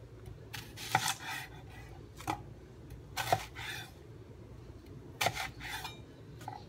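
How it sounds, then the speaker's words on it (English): A knife chops an onion into eighths while preparing vegetables for roasting: four crisp, separate cuts, each a sharp thud against the board, spaced irregularly over light background hiss. "I like to cut the onion in eighths if you can do it."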